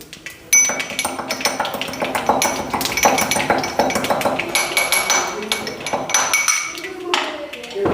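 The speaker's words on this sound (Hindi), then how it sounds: "इस काली मिर्च को हल्का सा कूट कर" Black pepper is lightly pounded by hand, producing a quick run of close, sharp metallic taps and clinks that repeat in an uneven rhythm for several seconds.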